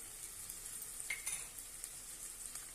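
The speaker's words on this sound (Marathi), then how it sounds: "गरम मसाला आणि छानपैकी परतून घेऊया" Spices and garam masala with green pigeon pea seeds sauté in a pan, a faint, steady sizzle and hiss with a few light stirring scrapes, quiet and close, with no voices.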